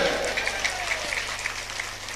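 An audience at a lively Islamic religious lecture in Indonesia breaks into applause, a wash of many hands clapping together beneath a hum, with no speech on top.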